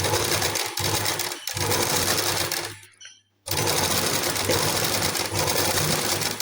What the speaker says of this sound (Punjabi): ਆਪਾਂ ਮਸ਼ੀਨ ਦੇ ਵਿੱਚ ਅਟੈਚ ਕਰ ਲਈ ਫਿਨਿਸ਼ਿੰਗ ਪੱਟੀ ਸਲਾਈ ਲਗਾਉਣੀ ਸ਼ੁਰੂ ਕਰਤੀ